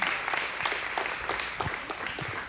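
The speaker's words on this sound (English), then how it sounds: "Big round of applause for the whole team." Steady applause from a full house at a July 2021 luncheon, with dense overlapping claps at moderate, somewhat distant volume and no talk over it.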